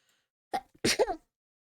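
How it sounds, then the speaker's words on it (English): A single human sneeze, close and clear: a short sharp intake followed by a loud burst and a brief trailing exhale, with silence before and after. "I'm gonna sneeze."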